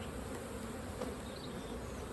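Honey bees hum steadily around an open beehive as combs of brood are moved between colonies, a dense, even drone filling the air close by with no voices.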